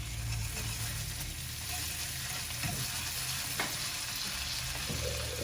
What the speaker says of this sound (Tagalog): Ginisa ko yung tomato paste.